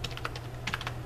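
Keys tapping on a computer keyboard while a price value is entered, a short burst of light clicks over a steady low hum, close and fairly quiet.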